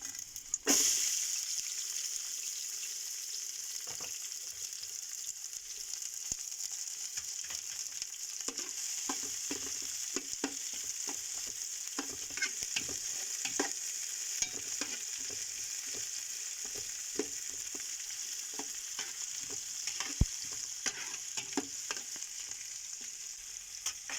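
Onions sautéing in a pan, a steady bright sizzle running throughout with scattered clicks and scrapes of stirring, fairly close and alone without talk.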